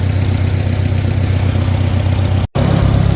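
A Farmall 400 tractor engine idles steadily and loudly up close, a low rumbling drone with a brief dropout near the end.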